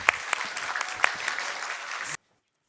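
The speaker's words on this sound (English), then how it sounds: "So a big applause." A conference audience bursts into steady applause, many hands clapping together at moderate distance, before the sound cuts off abruptly into silence.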